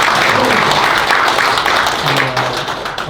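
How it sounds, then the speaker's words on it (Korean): Audience applause at a Korean-American business friendship forum, sustained and dense throughout, steady in loudness with a faint voice or two underneath. "이 정도로 일단 끝내고 박수 한번 받아야 되겠습니다"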